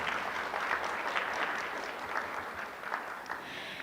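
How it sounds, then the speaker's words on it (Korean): An audience at an education forum on AI gives sustained applause after a keynote lecture. The dense, even clapping from a large room carries on throughout, easing slightly toward the end. "귀한 시간 만들어주신 정우성 이사장님께 다시 한번 큰 박수 부탁드립니다."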